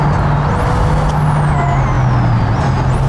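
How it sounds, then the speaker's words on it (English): Loud, continuous engine drone at speed with a rising and falling whine, like a vehicle accelerating on an open road. "listen to the beautiful sound of the engine."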